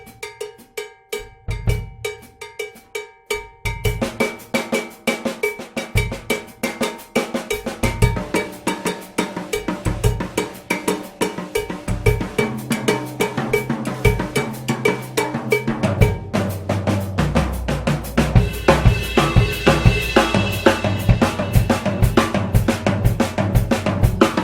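A bembe rhythm played on a drum kit with a prominent cowbell pattern, starting sparse and building into a dense, loud, repeating groove with steady accented strokes.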